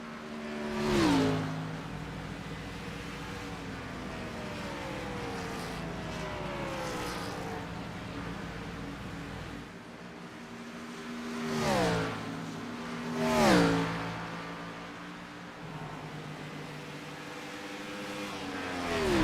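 NASCAR Gen race cars pulling out of the pits at Darlington Raceway in iRacing, engines revving with rising and falling pitch sweeps, two louder surges near the end over a steady engine drone.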